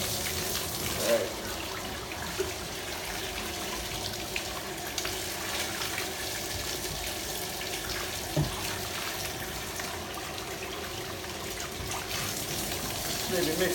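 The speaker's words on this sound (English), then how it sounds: "Maybe mix a little bit of cold water in there to get some pressure built up pretty good. Blast it out." Tap water rinses a Chevrolet Silverado intake filter in a steady, moderately loud rush with a continuous splashing hiss and no voices.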